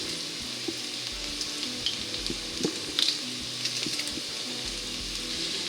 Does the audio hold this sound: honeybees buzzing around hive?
no